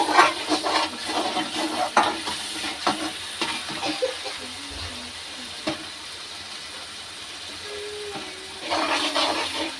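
Masala for egg curry fries in a pan with a steady sizzle and occasional scraping stirs, close up, the frying louder at the start and end, with no talk.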